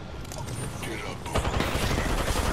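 Bursts of gunfire in a competitive video game, dense overlapping shots and rattling fire that grow louder partway through, continuous and busy with no clear gaps.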